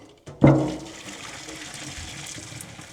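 Water from a pot of boiled eggs is drained off at home, a sudden loud splash and gush that quickly fades into a softer, steady trickle.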